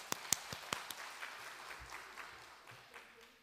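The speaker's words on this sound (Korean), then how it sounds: "이때 박수 한번 치는 거예요" A church congregation at a Friday intercessory prayer meeting breaks into brief applause: a few sharp, scattered claps up front that thin into faint, trailing patter.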